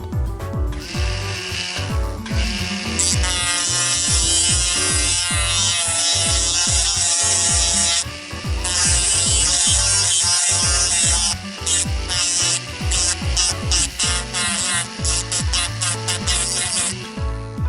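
Electric nail file buffing the inside of an acrylic nail tip, a loud continuous high-pitched whirring buzz that stutters and pauses briefly as the bit touches and lifts.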